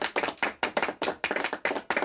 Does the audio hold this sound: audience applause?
yes